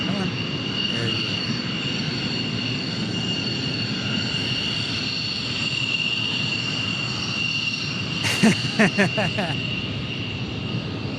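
F-16 fighter jets at Tucson's airport and Air National Guard base, a steady distant jet engine roar under a few brief spoken words, with short bursts of clattering near the end.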